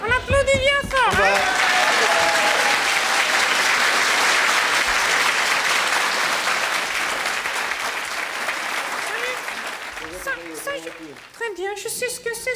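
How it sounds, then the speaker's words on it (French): A television studio audience at a 1986 variety show claps loudly and steadily for several seconds. Voices speak at the start and again at the end as the applause fades. "José, on applaudit bien fort."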